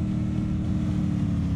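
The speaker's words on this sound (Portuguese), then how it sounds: "Ele pegou a moto de novo, mano." Steady motorcycle engine drone in the mobile shooter game Free Fire, a continuous low rumble at even volume with no breaks and no voices.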